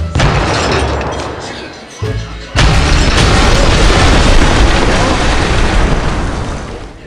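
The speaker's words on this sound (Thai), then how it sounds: "ต่อไปนะครับระเบิดมิสไซล์แรงนะครับ" Missile bomb exploding in the City Smash video game: a loud, sustained booming blast with crashing debris, briefly dropping before a second heavy explosion rolls on.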